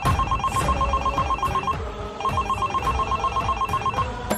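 A telephone in an animated cricket comedy rings steadily in repeated electronic trills, loud and close, with a short pause midway and no talk over it.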